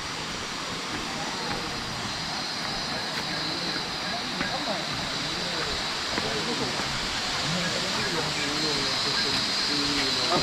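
A waterfall at Gunung Pulai gives a steady, broad rushing roar, while people talk close by over the constant water noise.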